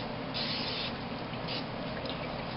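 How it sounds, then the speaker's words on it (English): Short hissing bursts of cooking spray, three quick sprays over a steady background hiss, no talking. "I'm going to go ahead and spray that down with some cooking spray"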